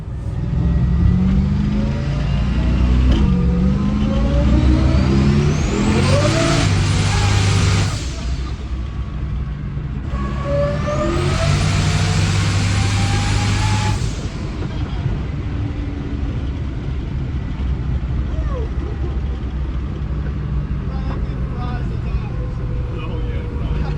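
A Camaro engine accelerates hard during a ride-along, heard from inside the car, with two long, loud pulls that climb steadily in pitch and then drop back to a steady cruising drone.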